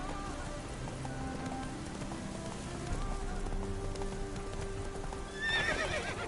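Horse hooves clip-clop at a gallop in The Witcher 3: Wild Hunt, steady and fairly close, with a whinny rising near the end over faint rain-like patter.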